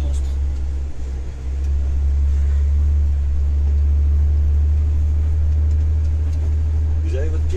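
A Renault C 500 truck engine runs with the accelerator held down, a loud, deep, continuous rumble that dominates the clip, with someone speaking over it.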